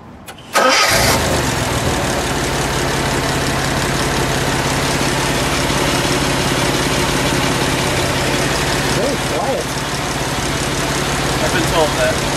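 A 1970 Jaguar E-Type coupe engine cranks and catches with a sudden roar, then settles into a loud, steady idle that rumbles on without a break.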